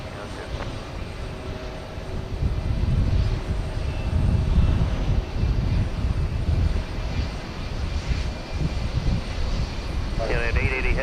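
A United heavy airliner takes off from runway 15 left at Houston Intercontinental, its loud engine roar steady and broad through the whole stretch, with a brief higher tonal chirp near the end.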